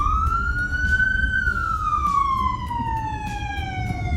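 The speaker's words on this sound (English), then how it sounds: "Should we hit the siren?" An SFPD police car siren wails nearby, one long rising and falling tone, loud over the engine's low rumble.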